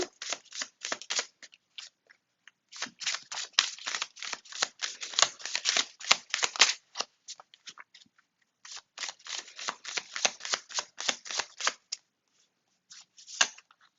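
Tarot cards being shuffled and drawn, a close, papery riffling in dense bursts with short pauses between them and no talking.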